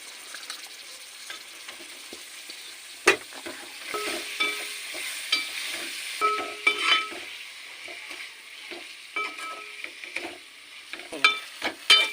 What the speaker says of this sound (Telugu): గంట ఒకసారి ఇట్లా కలుపుకోవాలి